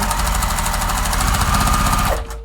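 A sewing machine chain piecing fabric strips runs in a steady loud close mechanical rattle that slows and stops near the end.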